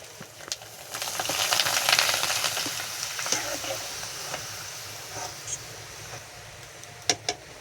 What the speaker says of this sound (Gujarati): તેલ થઈ જાય પછી ભૂંગળા તળવાના